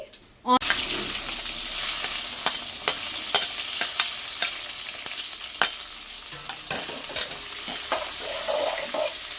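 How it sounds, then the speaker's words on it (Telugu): Onions and mustard seeds fry and sizzle in a pan, a continuous hiss broken by sharp clacks and scrapes of stirring, close and fairly loud with no talking. "ఇలా మొత్తం నీట్గా వేయించుకోవాలి"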